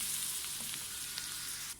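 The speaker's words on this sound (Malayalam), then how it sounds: "ഇത് ലോ ഫ്ലെയിമിലിട്ട് ഈ ഇഞ്ചിയിലെയും വെളുത്തുള്ളിയിലെയും ഒക്കെ ആ വെള്ളമയം കംപ്ലീറ്റ് ആയിട്ട് പോകുന്നത് വരെ ഒന്ന് വഴറ്റിയെടുക്കണം." Ginger, garlic and curry leaves sauté in oil over a low flame for a sardine pickle, a steady close sizzle with faint stirring clicks that cuts off abruptly at the end.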